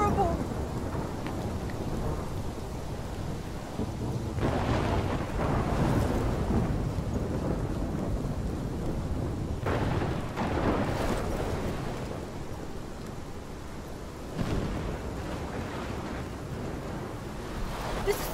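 A heavy thunderstorm in Life Is Strange roars with steady pouring rain and several deep thunder rumbles and cracks, continuous and loud throughout.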